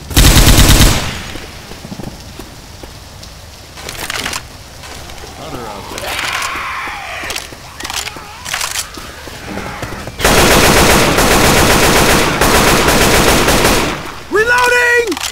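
A heavy mounted machine gun in Left 4 Dead 2 fires in loud sustained bursts, with a stretch of quieter combat sounds and shouting between them before another long roaring burst.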